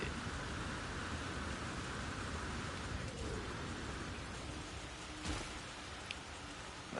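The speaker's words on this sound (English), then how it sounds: "Oh, it's raining." Steady, even rainfall on an alien planet in No Man's Sky, a dense wash of patter with a couple of faint distant rumbles or thumps near the end, no voices.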